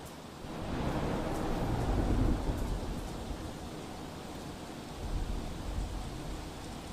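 Heavy monsoon rain pours steadily in a flooded rural area of Patan in Gujarat, a dense broadband wash with a low rumbling swell near the start and another later, fairly distant and even, with no voices.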